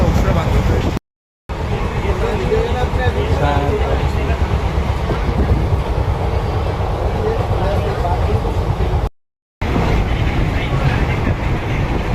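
Inside a moving passenger train, a loud, steady rumble and rattle of the carriage on the rails runs throughout, briefly cut out twice, with some low murmuring voices mixed in.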